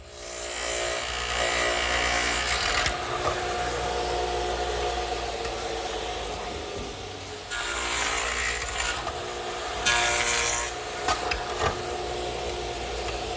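Radial arm saw cutting a dado into wooden table legs, a steady loud whining grind running for several seconds, dropping briefly, then a second shorter cutting pass with bursts of bright rasp.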